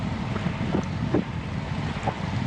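Steady wind buffets the microphone during an outdoor cycling group ride in a loud, continuous low rumble with slight gusting surges and no talking.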